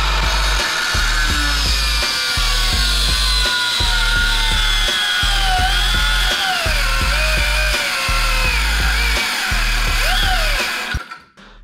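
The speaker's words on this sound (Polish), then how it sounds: "No to szlifiereczka." An angle grinder cuts through a motorcycle lock, grinding steadily and loudly at close range, its high whine wavering in pitch as it bites into metal, then cuts off at the end.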